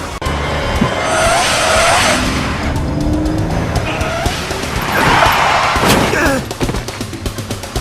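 Tires squeal in long, loud skids as a car brakes hard during a chase in the game Lost Horizon, with engine roar and clattering impacts near the end.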